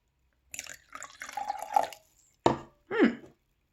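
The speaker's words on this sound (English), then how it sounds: "So I'm going to pour the water in the vinegar." Water pours into vinegar in short splashing bursts, with a run of trickling followed by two sharper, louder pours and brief pauses between them.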